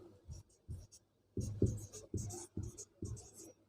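Writing a definition on a board during a chemistry lesson on balancing chemical equations, heard as a series of short, close scratching strokes in irregular bursts, fairly quiet, with no speech.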